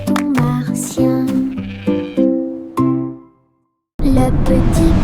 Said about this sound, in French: Une histoire très cool sur les moutons martiens.